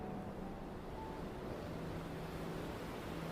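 Ocean waves washing in a steady, soft wash of surf with some wind noise, faint and continuous with no voices.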